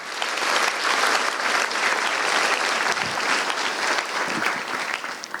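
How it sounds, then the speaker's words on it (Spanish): A church congregation applauds during a sermon, with sustained dense clapping from a large group, loud and even throughout, and no speech over it. "denle un aplauso a Dios con todo su santo corazón"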